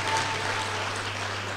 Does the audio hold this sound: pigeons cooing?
no